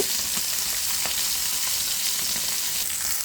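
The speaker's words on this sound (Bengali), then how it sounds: "এগুলো আমি সুন্দর করে ভেজে নেব সুন্দর করে মাছগুলো নেড়ে দিলাম" Koi, puti and rui fish frying in oil in a pan, a steady close hiss of sizzling oil running throughout with occasional faint pops and stirring clicks.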